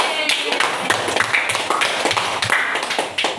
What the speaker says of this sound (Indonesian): Tepuk tangan untuk kelompok cabai.